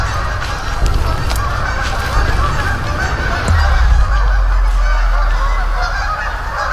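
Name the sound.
geese honking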